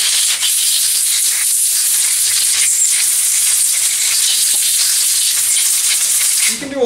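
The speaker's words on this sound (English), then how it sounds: "All the little tiny holes, get a little bit of a blowout like that. And then your compressed air." Compressed air blasts through the tiny holes of a Dellorto carburettor for a Vortex Mini Rok kart, a loud sustained close hiss lasting nearly seven seconds.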